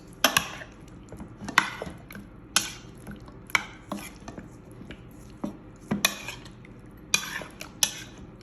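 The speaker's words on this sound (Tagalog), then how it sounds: "I-mix ko yung sauce." A utensil scrapes and knocks against a bowl or pan while sauce is mixed into potatoes, giving a steady series of light clinks and taps at a close, quiet level, with no talking.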